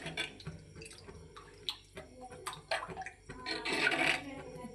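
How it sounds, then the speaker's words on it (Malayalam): Water is poured and splashed into a pot of thick fish curry, with irregular trickles, drips and clinks that grow louder toward the end. "ഇത്രയും വെള്ളം വെക്കണമല്ലോ."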